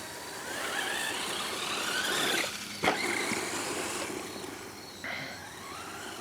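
A Redcat Volcano RC car with a brushed motor, running on a NiMH battery, drives past with a faint, rising and falling whine and some squealing, with no one talking.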